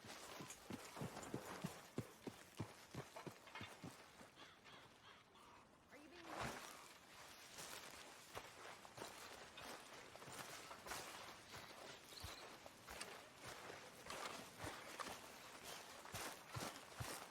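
Horse hooves clip-clop in Red Dead Redemption 2, a run of distinct rhythmic hoofbeats up close that pauses midway before resuming, with faint bird calls and a brief voice in the background.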